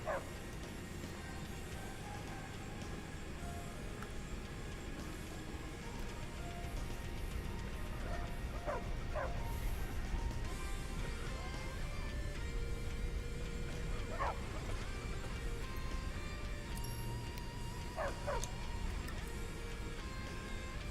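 A dog in the modded Skyrim Special Edition video game gives yips, barks and whimpers, several short cries scattered among steady game background sound.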